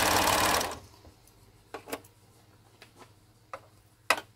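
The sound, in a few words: overlocker sewing machine overlocking cotton face mask fabric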